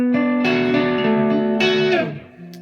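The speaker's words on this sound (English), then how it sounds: "it's a Classic Vibe Tele, Emerson custom wiring and Porter pickups into a Vox AC15" A Classic Vibe Telecaster with custom Emerson wiring and Porter pickups plays through a Vox AC15 amp, giving a few ringing sustained notes and chords that change twice before fading.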